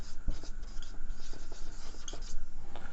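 Pen or marker scratching across a writing surface while a sentence is written out in an English grammar lesson, a steady rubbing stroke with small taps, close and alone with no talk.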